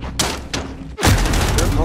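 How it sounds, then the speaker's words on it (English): Video game gunshots: a few sharp cracks early, then a loud, dense burst of fire running to the end, with someone talking over it. "Where are these shots coming from?"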